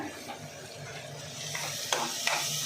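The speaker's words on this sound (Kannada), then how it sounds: "ಈಗ ಈರುಳ್ಳಿ ಎಲ್ಲ ಚೆನ್ನಾಗಿ ಫ್ರೈ ಆಗಿದೆ" Onions fry in a pan with a steady close sizzle, broken by a few scraping stirs of a spatula toward the end, with no voices.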